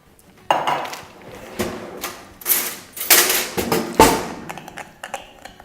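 Hot sauce stirred together with olive oil in a bowl with a spoon, giving scraping and clinking taps in an uneven rhythm with a few louder knocks, close and moderately loud, no one speaking.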